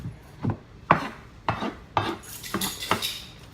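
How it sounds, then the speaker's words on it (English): Jarred roasted red peppers being chopped with a knife on a board for camping food, about seven evenly spaced close chops with a faint background hiss. "So I'm gonna chop those up"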